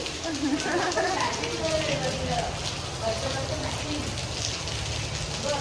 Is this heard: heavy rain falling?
yes